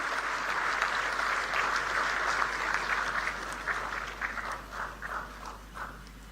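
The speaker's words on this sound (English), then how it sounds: "A huge round of applause." Sustained audience applause fills a hall at the inauguration of India's first quantum center at SRM University Amaravati, dense clapping that holds steady before gradually thinning into scattered claps.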